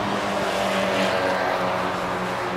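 Race cars including a Mazda 787B running on the SUGO circuit at a Mazda fan meeting: a steady, continuous engine drone with sustained tonal whine, heard from a distance without breaks.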